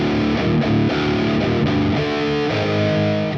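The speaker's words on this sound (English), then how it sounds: "One of the guitars is essentially just playing the bass riff with some power chords." Distorted guitar power chords chug through a heavy bass riff in a song, a dense, loud band mix with steady rhythmic attacks and no voices.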